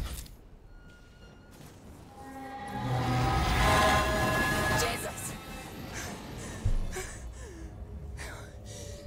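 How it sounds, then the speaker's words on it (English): Trains passing in the video game Alien: Isolation, a broad rumbling swell that builds and fades over several seconds, with game ambience and clanks around it. "Yeah, I'm not sure where these trains are coming from."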